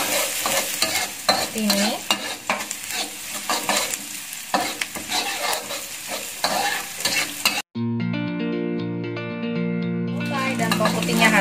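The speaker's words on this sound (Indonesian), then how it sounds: "Kita masukkan bawang putihnya. Kita aduk" Garlic sizzles and crackles steadily in a hot pan while being stirred, with someone speaking over it, before music takes over near the end.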